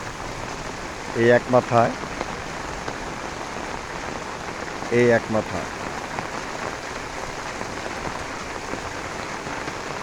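Heavy early-morning rain pours steadily onto an empty street where water is starting to pool, a dense continuous hiss throughout, with someone speaking briefly twice over it.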